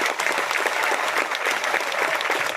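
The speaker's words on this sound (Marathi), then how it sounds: "अक्षरशः गोट्या तुझ्या क्षेत्ररक्षणानंतर वाजलेल्या टाळ्या अंगावर शहारा उभा करून गेले." Spectators at a local cricket match clapping for a fine piece of fielding, a dense, continuous burst of applause from a sizeable crowd that stays loud and even throughout.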